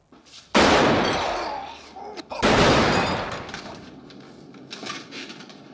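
Two loud, sharp bursts in The Godfather scene, a gunshot blast followed by another heavy crack, each trailing off in a long noisy decay, with fainter knocks and rustles afterward.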